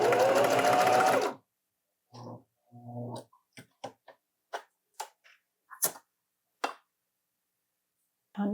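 A sewing machine stitches the shoulder seams of a stretchy turtleneck in one dense, steady burst of about a second, then a run of short, separate clicks and knocks follows at close range.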